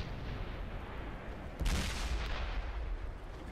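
A tank's cannon fires in World of Tanks: one sharp, heavy boom cuts through steady engine rumble and then rolls away, loud and close, with no voices.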